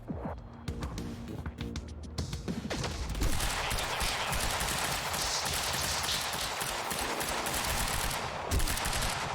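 Sustained, dense gunfire from the video game Quantum Break, with rapid overlapping shots and bursts forming a loud continuous barrage with no talk.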